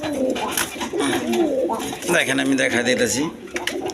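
Masaldam breed pigeons, a pair offered for sale, coo softly beneath someone talking loudly close by, the throaty calls mostly buried under his voice.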